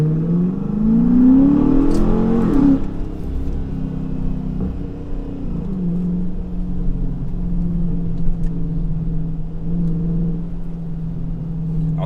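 A Chrysler 300 with a 5.7 HEMI V8 and an 87mm ported throttle body revs up briefly at the start, then settles into a deep, steady idle rumble close to the microphone.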